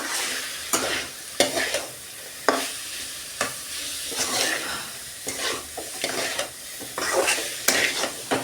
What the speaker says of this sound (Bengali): লাল শাক আমার ভাজা হয়ে গেছে, এবার নামিয়ে নেব